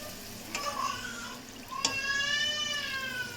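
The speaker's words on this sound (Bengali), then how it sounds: "দিয়ে দেবো হচ্ছে সর্ষে বাটার জল" Mustard paste water pours into a sizzling mustard curry for boal fish in a pan, giving a steady hiss and fry crackle with a rising, ringing pour tone and a couple of sharp clinks.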